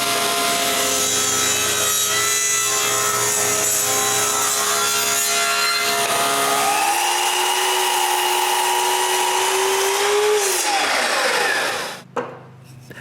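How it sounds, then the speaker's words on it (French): A power saw cuts small pieces of wood into spacers the thickness of apple-wood boards, a loud, steady, rasping whine that holds for several seconds, then winds down and stops abruptly. "je me coupe des petits bouts de bois pour faire les espaceurs de l'épaisseur des planches"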